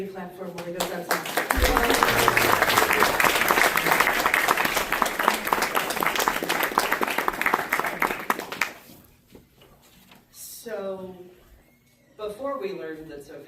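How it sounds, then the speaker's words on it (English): A crowd at a live storytelling event claps continuously and strongly for several seconds, then the applause dies away and a voice talks over the quieter room. "Everybody clap for him while he goes outside."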